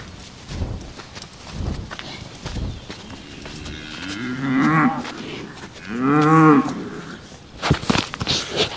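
Cattle moo in long, low drawn-out calls, two or three prominent bellows close by, with scattered shuffling and hoof sounds in between.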